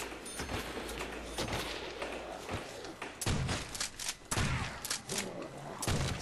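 A powerful gun fires in Call of Duty: World at War Zombies, heavy booming shots landing in irregular bursts amid zombie-fight clatter, close and punchy, with a player talking between shots.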